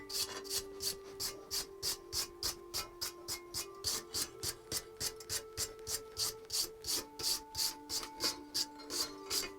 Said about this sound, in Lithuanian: šveičiu priekinę dalį